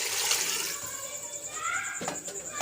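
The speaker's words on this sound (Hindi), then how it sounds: "2 गिलास हमने इसमें पानी के ऐड किए हैं।" Water poured from a glass into a pot of small goat trotters for mutton paya, a close splashing pour that fades into sloshing, with a voice speaking over it.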